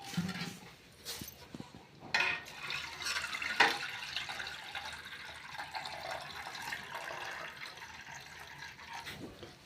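Water pours and splashes steadily into a bowl of lentils for soaking, several seconds, fairly quiet, with a few clinks near the start.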